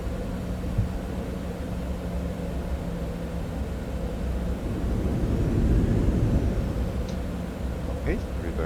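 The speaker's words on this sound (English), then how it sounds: "Let's try to check our reversers before we get onto the runway." Cessna Citation X jet engines in Microsoft Flight Simulator 2024 roar steadily as the thrust reversers are tested on the ground, a broad continuous rumble that swells louder midway and then eases, with a few faint higher tones near the end.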